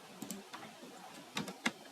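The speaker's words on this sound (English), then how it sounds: "You just press Ctrl on keyboard and then you just double click only." Ctrl key pressed on a computer keyboard followed by a mouse double click, faint close clicks in a quiet room: a couple of soft taps early, then two sharper clicks near the end.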